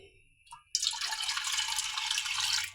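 Water streams steadily into a pan for a jaggery rice syrup, a bright continuous splashing pour that starts abruptly after a couple of faint clinks and runs evenly to the end.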